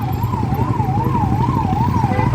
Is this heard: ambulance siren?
yes